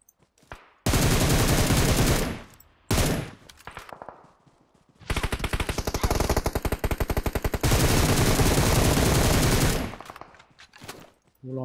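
Loud, dense automatic gunfire from the PUBG Mobile battle royale game on the Livik map, long sustained bursts of rapid shots broken by short gaps and a few single shots, with no talk.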